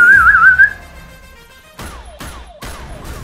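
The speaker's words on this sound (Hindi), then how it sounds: "सीटी मारो भाई" A person whistles a wavering, warbling tune loudly for under a second in a Hindi action-film trailer, followed by a quiet pause and then three sharp descending swooshes with impacts.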